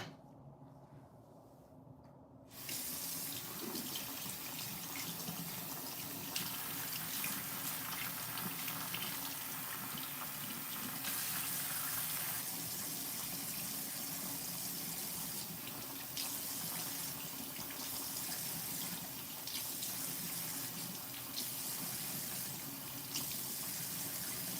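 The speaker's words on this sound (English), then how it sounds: "Now I need to wash my hands" Tap water runs steadily into a sink during handwashing while hair is being dyed red, a continuous close splashing rush that starts after a brief quiet moment and carries on alone to the end.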